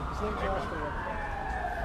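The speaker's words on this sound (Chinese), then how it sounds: "只係有警車響住警笛行過。" A police car passes along a road in Ma On Shan with its siren wailing, a sustained rising and falling tone over traffic noise, fairly loud and close.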